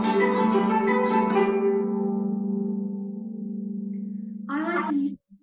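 Guzheng played with finger-and-thumb plucking: a quick flurry of bright plucked notes that settles into a long, sustained low ringing tone, followed by a final pluck and an abrupt damping, close and clear.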